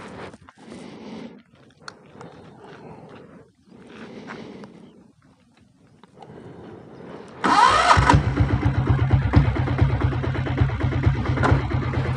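A 7.5 HP self-start diesel Royal Enfield Bullet motorcycle cranks and fires up partway through, then settles into a loud, steady, thumping idle close by, after a stretch of quieter handling noises.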